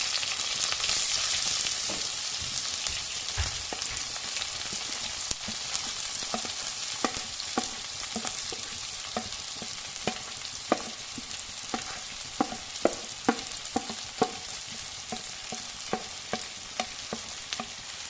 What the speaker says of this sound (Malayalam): ഈ വെളിച്ചെണ്ണ ചൂടായി അതിനകത്തേക്ക് നമുക്ക് അരിഞ്ഞു വെച്ചേക്കുന്ന സവാള നമുക്ക് വെക്കാം